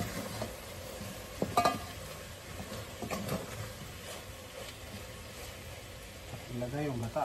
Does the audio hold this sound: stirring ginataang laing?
yes